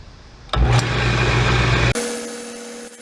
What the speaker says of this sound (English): I'm going to turn the speed up on the lathe because it'll cut faster